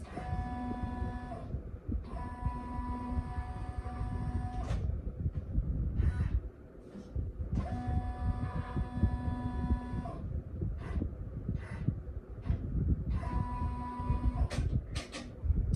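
An embroidery machine traces a design outline on a pair of jeans, running in steady mechanical bursts of rapid stitching hum that stop and restart in regular, repeating cycles, close and fairly loud.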